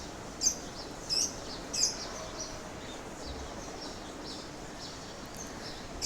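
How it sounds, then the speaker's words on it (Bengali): Birds chirping and calling at dawn outdoors, a few short distant chirps early on and then faint scattered tweets over a quiet, hissy background. "পাখিরা চেঁচামেচি করতে থাকে।"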